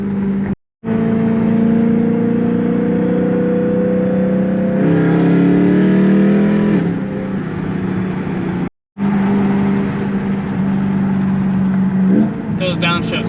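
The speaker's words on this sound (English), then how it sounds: "this engine sounds beautiful" A BMW E92 M3 engine revs hard and drops through downshifts, loud and close, with rising and falling engine tone, brief cuts between, and someone talking over it.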